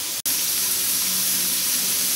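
Steady, loud hiss of steam venting from a pressure cooker while preparing agar for growing mycelium, broadband and continuous apart from one brief dropout near the start, with no talking.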